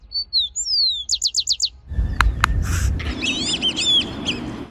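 Birds in a wetland in Bogotá: high whistled notes and a quick run of repeated chirps, then a burst of rustling and clucking calls with more trilling song over it, close and fairly loud.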